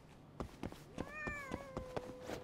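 Cats meow in the video game Judgement, a few clear rising-and-falling meows heard close up over faint background sound, with short knocks or taps in between.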